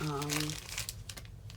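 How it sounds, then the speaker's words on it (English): A scrap sheet of paper is pulled in and crinkled during card-making, giving a brief rustle at close range that fades into quiet handling noises. A voice is briefly heard at the start. "I'm gonna pull in a scrap sheet of paper."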